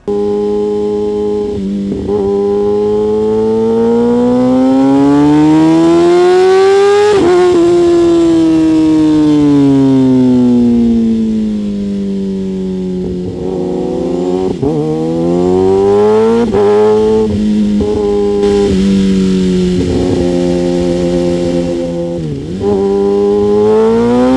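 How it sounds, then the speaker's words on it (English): Kawasaki ZX6 sport motorcycle on a ride, its high-pitched inline engine revving up and down through gears in long rising and falling sweeps, loud and sustained, with no talk. "a clip right here for you guys to hear what the ZX6 sounds like"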